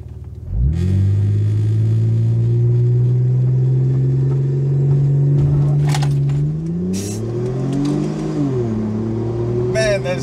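A Mitsubishi VR4 Legnum launching hard from a standstill: a loud close engine rumble rises steadily through the revs, then dips at a gear change and climbs again, with brief voices near the end.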